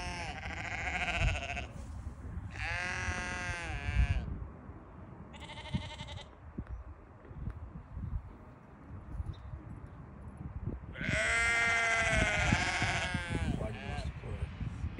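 A white Dorper ram lamb bleats several times in wavering, nasal calls separated by pauses, over a rustling field background, with a louder, longer bleat near the end.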